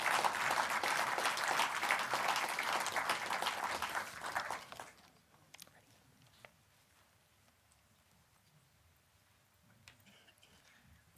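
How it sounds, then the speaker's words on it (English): An audience at an arts awards celebration gives a round of dense, steady applause for selected artists, loud at first and then dying away abruptly into near quiet with faint scattered noises. "please give a round of applause for all of the selected artists, as well as all the artists who entered Dimensions this year"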